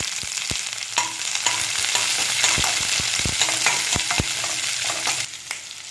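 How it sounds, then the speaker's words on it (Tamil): Sliced onions frying in oil with fennel seeds, cinnamon and cloves for hotel-style poori masala, a loud continuous sizzle broken by frequent scraping stirs of a spoon in the pan, no voices. "இது எல்லாமே நல்லா ஃப்ரை ஆகட்டும்."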